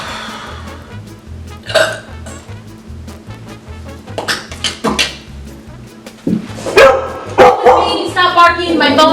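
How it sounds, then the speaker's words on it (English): A dog barking in bursts, a few sharp woofs and yips standing out over a steady low electronic beat, with people talking loosely around it. "Stop barking"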